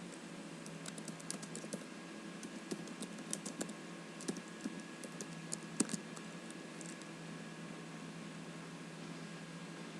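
Someone types on a computer keyboard into a terminal: soft, close clicks in irregular quick runs over a steady background hum, then a few seconds of only the hum, with no speech.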